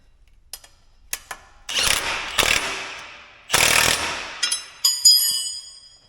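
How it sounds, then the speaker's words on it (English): A wrench ratchets to tighten a nut on a corn planter, giving a series of loud close clicking bursts with short pauses between them and no voices. "I will snug this one up, and that will draw it up enough to where I can get that other nut on."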